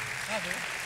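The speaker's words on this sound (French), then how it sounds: "on peut encore vous applaudir" Audience applause at a trophy presentation ceremony: a brief, steady wash of clapping from a crowd, with no distinct peaks.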